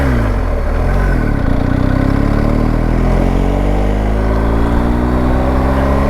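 A 2022 BMW R1250 Adventure motorcycle engine runs steadily and loudly up close, a continuous throbbing drone that shifts pitch slightly as it revs, with no talk.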